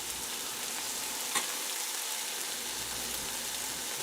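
Roughly chopped vegetables fry in a pan for braised lamb shanks, giving a steady, close sizzling hiss that runs throughout with a brief clatter near the middle.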